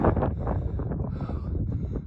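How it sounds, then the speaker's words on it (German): Wind gusts buffet the microphone on a mountain above a desert dune camp, a rough, rumbling roar that swells and dips for a couple of seconds with no talk. "Es windet ein bisschen auf diesen"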